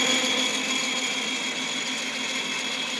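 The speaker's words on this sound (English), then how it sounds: "That's feeding, turning that. So that's actually drilling down." A drill press running steadily as its power feed drives the bit down, giving a continuous even motor whine and hum close by with no talking.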